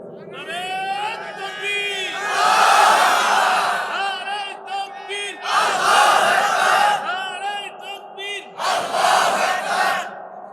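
A large crowd at a Bangla waz sermon shouts slogans in unison, with three loud, sustained roaring chants separated by short pauses and voices layered throughout.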